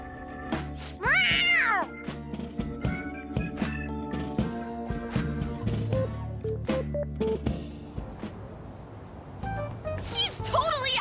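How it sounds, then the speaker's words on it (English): A cat meows loudly in the Persona 5 video game, a single drawn-out cry near the start, set among game music and sound effects. "A cat?"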